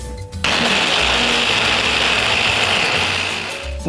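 An electric blender runs continuously, whipping a sauce mixture with added garlic and salt for fried catfish, a loud, steady close whir that starts abruptly and holds for several seconds.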